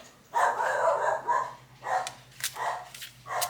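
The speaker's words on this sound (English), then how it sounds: "oh, my dog is very upset about something." An upset dog barks indoors, a quick series of several sharp barks and yips in irregular bursts, moderately near with a low steady hum underneath.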